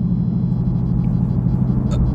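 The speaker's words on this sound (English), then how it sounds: "this is me taking a drive in the 800 plus horsepower Hellcat" A Stage 1 Dodge Charger Hellcat with over 800 horsepower rumbles steadily while driving, a deep, loud, continuous engine drone heard from inside the car, without talking.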